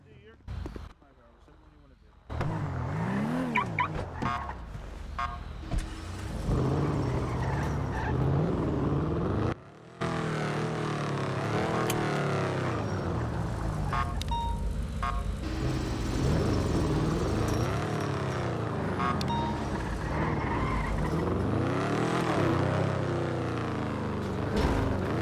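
A car in GTA V roleplay drives and skids, its engine roaring loudly and continuously with tires screeching in long sweeps, while people talk intermittently over it.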